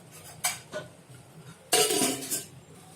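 A lid clinks onto a pot of apple murabba cooking in thick sugar syrup, with a few light metallic taps first and then a louder, close clatter as it settles.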